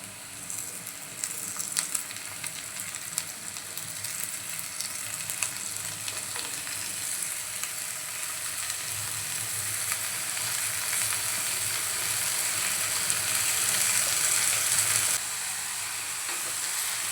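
Finely chopped red amaranth leaves hit a pan of softened, reddish onion for a Malvani-style bhaji. A steady, close sizzle runs unbroken throughout, with no talking.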